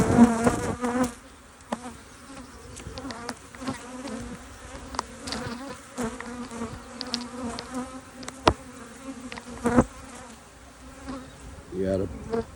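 Honeybees hum and buzz steadily around an opened hive during an inspection, a close, continuous drone with individual bees zipping past the ear now and then.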